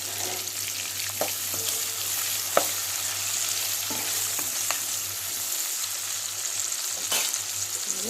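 Bitter gourd and onions frying in a pan over a medium flame with curry leaves, a steady close sizzle with a few brief stirring clicks and scrapes and no talk.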